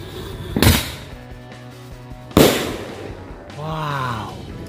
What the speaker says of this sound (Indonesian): yang selanjutnya kita nyalain mercon bola launcher ya